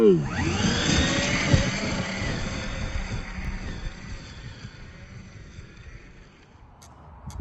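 A Traxxas Maxx 4S RC truck launches and drives off, its loud whining motor pitch sweeping up sharply at the start, then a broad rushing roar with wind buffeting that fades slightly as it moves away.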